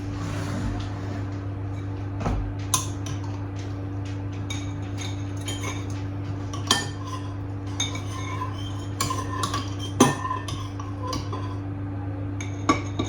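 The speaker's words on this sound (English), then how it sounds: "I'm gonna take a fresh spoon and scoop it into the bottles" A metal spoon scoops elderberry pulp into bottles, giving scattered light clinks and taps against glass and metal over a steady low hum, close by and without talk.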